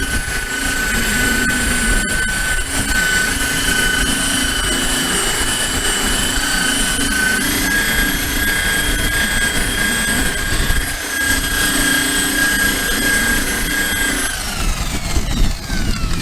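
1985 Honda ATC250R engine idling steadily around 1,400 RPM, a loud continuous buzzing drone with a high whine that drops slightly near the end, no speech.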